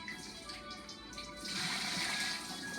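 Water running and splashing as raw fish is washed with squeezed lemon in cold water, a steady gushing stream that grows louder and fuller partway through, with no talking.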